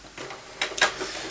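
An Epson D1560 inkjet printer fitted with a continuous ink supply system starts up, giving soft shuffling mechanical noise and a couple of louder clacks and whirs as the print head begins moving.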